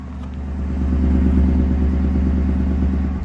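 A car engine idles steadily while warming up, a low, even rumble with a faint clattery texture that rises slightly and holds constant, close by with no voices.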